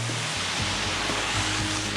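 A waterfall reached on a hike in Sri Lanka rushes steadily, a loud continuous broadband roar of falling water close by.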